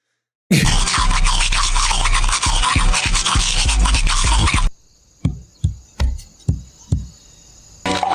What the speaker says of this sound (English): Dude brushing his teeth singing the song.